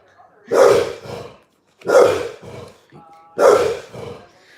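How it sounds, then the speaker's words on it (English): A dog barks at a UPS truck in three loud, close double-bark bursts, each a sharp woof followed by a shorter one, spaced about a second apart with quiet gaps between. "He won't hurt anyone. He just got to bark."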